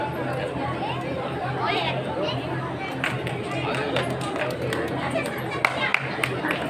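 An audience claps steadily at a school retirement ceremony honouring teachers, a continuous patter of many hands over crowd chatter and background voices throughout.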